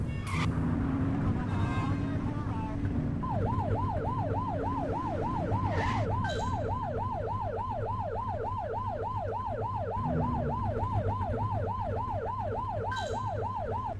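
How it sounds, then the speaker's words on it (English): A police car siren in a police video game wails in a fast, steady warble to pull a car over, running continuously beneath a low engine drone. "Get behind them and flip the siren to make them pull over."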